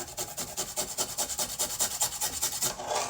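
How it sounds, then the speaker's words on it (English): Fresh ginger is rubbed against a grater in quick, even strokes, each a close, raspy scrape repeating about six times a second, fairly quiet and with no talking. "I was just grating some ginger"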